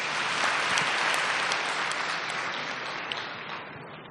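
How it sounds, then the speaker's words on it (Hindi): An audience claps steadily throughout a welcome and inaugural session, a dense, even wash of applause at moderate volume that slowly tapers toward the end, with no voices over it. "ताली बजाओ"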